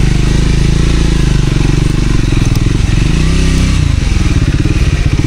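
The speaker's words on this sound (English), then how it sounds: "This is hardcore off-roading. And I'm here with my Scrambler." Scrambler motorcycle ridden off-road on a rough route toward a waterfall, a loud, close, continuous engine drone with rising and falling revs and jolting thuds and rattles over the broken ground.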